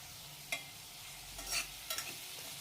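Chopped bottle gourd is stirred into a sizzling fried paste with turmeric and salt, giving a quiet low sizzle broken by a few distinct scraping stir strokes, close up with no talk.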